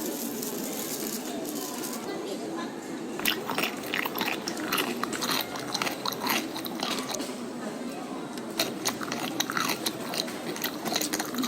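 Crunchy McDonald's fried chicken being bitten and chewed close to the mic, with irregular crisp crunches scattered through the chewing and occasional talk underneath.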